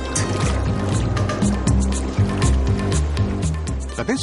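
A boat engine rumbles steadily with low, droning pulses on a bay at Seward, Alaska, water sloshing alongside and a brief squeal near the end.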